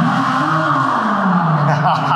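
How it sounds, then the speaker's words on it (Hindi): A Komaki Ranger electric cruiser motorcycle plays a simulated engine sound, a loud, steady droning hum with a slowly shifting pitch, heard up close. "वो इस इलेक्ट्रिक मोटरसाइकिल के अंदर ये साउंड है"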